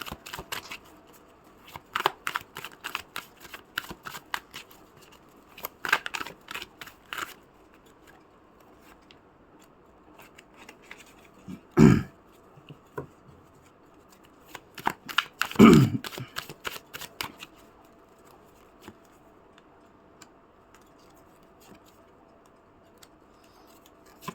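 Tarot cards being shuffled and drawn during a relationship reading, with soft repeated riffling and flicking in bursts and two sharper slaps as cards are set down, close and fairly quiet with no talk.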